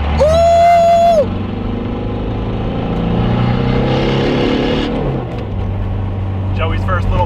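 A Volkswagen TDI car engine accelerates hard with a loud, steady roar and a rising whine, close up, then the pitch drops and it settles; voices can be heard over it.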